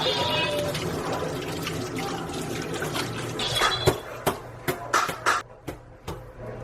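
Water splashes while being poured for rinsing, first as a steady running stream, then as a series of separate splashes and drips toward the end.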